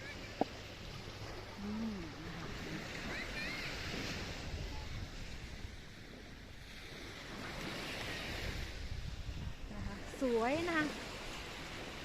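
Sea surf washes steadily against the shore at Warnemünde on the Baltic Sea, with wind buffeting the mic, and voices speak briefly now and then.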